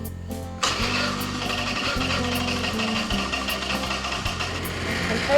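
A motorcycle engine starts abruptly and settles into a steady, close idle with a low throbbing rumble and a rattling mechanical chatter on top.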